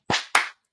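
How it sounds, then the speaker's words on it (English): Two sharp, loud hand claps from an audience, evenly spaced and close together, standing alone with silence after. "can I get 2 claps and a yeet?"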